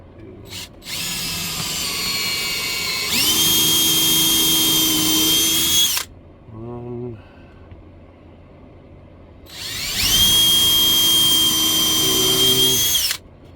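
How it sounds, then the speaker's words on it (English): Power drill driving screws, revving up in two long sustained whines of about three seconds each with a brief ratcheting clutch chatter between them, loud and close. "I'll probably do 3 screws per piece."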